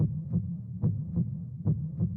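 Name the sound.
heartbeat sound effect playing in a video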